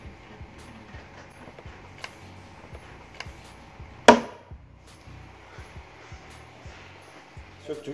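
A plastic trim cover on a car is pried off, giving one sharp snapping crack partway through amid scattered small clicks and taps, close up, with someone talking in Turkish.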